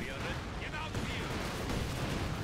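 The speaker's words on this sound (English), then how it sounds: "Over here I sent in some incendiary artillery" Incendiary artillery from the Company of Heroes 2 video game pounds an area in a dense, continuous barrage of low rumbling booms and crackling bursts that holds steady and loud throughout.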